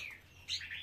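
Young pigeon chicks chirp and tweet during feeding, a close, faint burst of high, thin calls lasting under a second with a low steady hum underneath.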